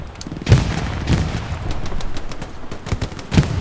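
Machine gun fire in the WWII shooter Hell Let Loose on the Utah map: loud, close bursts of gunshots with several sharp reports standing out from continuous battle noise and rumbling.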